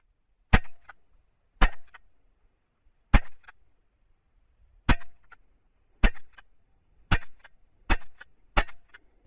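A Kvintor air pistol fires dome-tipped pellets at a 10-meter target, eight sharp, close cracks spaced about a second apart, each followed by a brief faint impact tick, with no talking.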